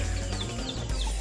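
Chickens on a farm in the Philippines give a few soft clucks over a heavy low background rumble, brief and fairly faint.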